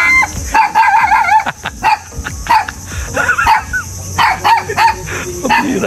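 Repeated dog barks in quick bursts, fairly close, with a rooster crowing in the background and faint voices now and then.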